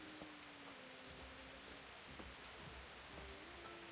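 Steady rain in Kingdom Come: Deliverance, a soft, even hiss of falling drops that runs faint and unbroken with no voices over it.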